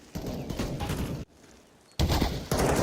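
Gunshots during a Counter-Strike match at a major esports tournament, loud rapid bursts of fire broken by a brief quiet gap, then resuming sharply.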